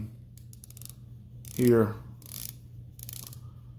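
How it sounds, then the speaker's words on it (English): Rotating bezel on a Tudor 1926 wristwatch gives a short, close run of fine ratcheting clicks, lasting well under a second, with quiet talk before and after. "The bezel also is pretty solid. You see it lines up. You can hear it, nice little clicking."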